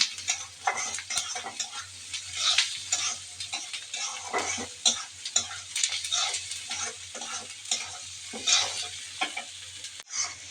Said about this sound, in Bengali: ঝুড়ি করার জন্য পেঁয়াজ মরিচ ভেজে নিচ্ছি